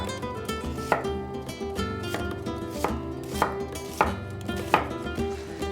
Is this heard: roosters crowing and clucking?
no